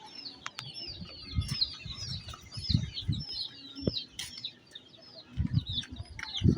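Chickens cluck in low bursts while many small birds chirp and peep busily overhead, a lively outdoor flock heard at moderate distance.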